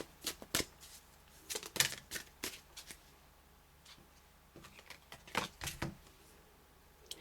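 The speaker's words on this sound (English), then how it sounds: "I'll just pull an angel card." Angel oracle cards are shuffled by hand close up, a run of crisp riffling flicks and slaps in uneven bursts over quiet room tone.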